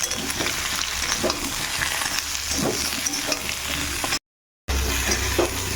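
Potato, pointed gourd and onion sauté in a pan with a steady close sizzle and soft stirring scrapes, briefly cutting to silence near the end before the frying resumes.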